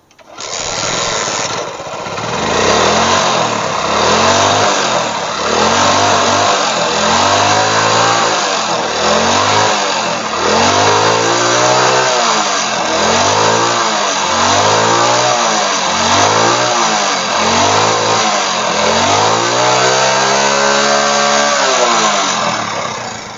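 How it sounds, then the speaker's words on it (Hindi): An old Hero Honda motorcycle with an intermittent electrical current fault starts up, then its engine revs in repeated rising and falling bursts, loud and close, for about twenty seconds with no talking. "अब बाइक को स्टार्ट करेंगे।"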